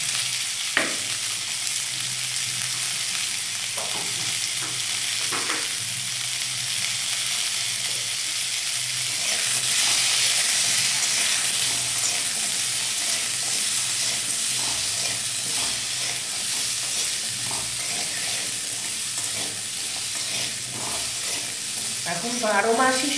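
Potatoes coated with turmeric frying in a pan for vegetable khichuri, a steady broadband sizzle running throughout with occasional stirring scrapes, close and fairly loud with no talking.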